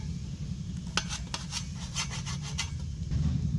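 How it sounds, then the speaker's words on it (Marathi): A knife slicing steamed spiced cucumber vadi into thin pieces, a series of short rasping cuts bunched together, close and fairly clear over a low steady background hum. "हे वड्या कापून घेऊया आता लहान लहान पातळ पीस करायचं"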